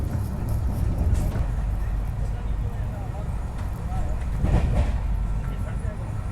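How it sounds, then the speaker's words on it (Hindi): The Sarnath Express runs along the rails with a low continuous rumble and occasional rattles heard from inside the carriage, a person talking over it. "और क्या भाग रही है ट्रेन अभी"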